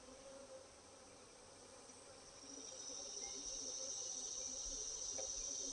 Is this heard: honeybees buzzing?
yes